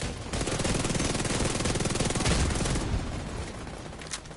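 Sustained automatic gunfire in the video game The Division 2, a loud, dense burst of rapid shots lasting several seconds before tapering into quieter scattered fire.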